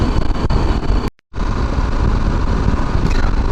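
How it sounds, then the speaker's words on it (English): A BMW G310GS motorcycle engine chugging steadily at around 3000 RPM in fourth gear while riding, a loud continuous drone mixed with wind, with a brief cutout partway through. "the bike is happily chugging along"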